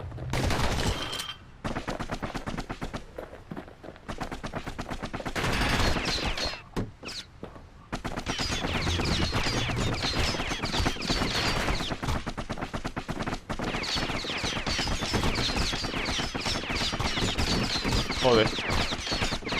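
Enemy gunfire in the video game Bastion rattles in dense, rapid bursts across the scene, loud and nearly constant with brief gaps, layered with game music and effects.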